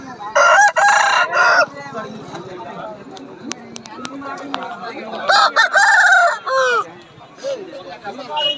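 Several roosters crow loudly nearby during Sankranti festivities, long rising-falling calls repeating in bursts, with quieter clucking and background chatter between them.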